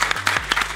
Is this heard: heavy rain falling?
no